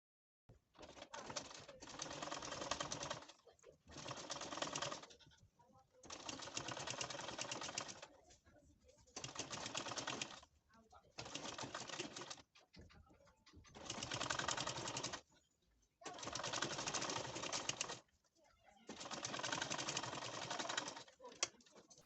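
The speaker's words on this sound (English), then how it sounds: "So I'm going to just stitch up the bottom part like this." Sewing machine stitching along the bottom seam of a corset cup, running in eight steady bursts of a few seconds each separated by short pauses, close and fairly loud with no talking.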